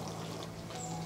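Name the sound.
pouring instant thick coconut milk into pan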